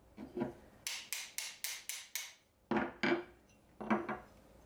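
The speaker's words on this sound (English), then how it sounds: "Start by gently tapping the chisel hoop with a mallet to remove it." A wooden mallet taps the steel hoop of a Japanese chisel to loosen and remove it: a quick run of six sharp knocks, then two pairs of louder, ringing metallic strikes, close and clear with no talking.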